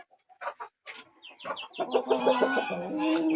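Cochin, Brahma and Silkie chickens cluck and call in a pen, a few short clucks first and then a busier run of overlapping hen vocalizations, fairly close and moderately quiet.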